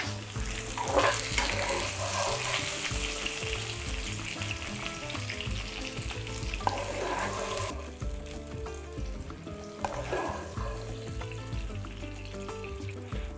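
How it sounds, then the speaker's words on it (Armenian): Zucchini pieces fry in pepper-seasoned vegetable oil in a pan, a steady loud sizzle and crackle that continues throughout, easing somewhat partway through, with no talking. "Եվ պղպեղով համեմված բուսայուղով տապակում ենք"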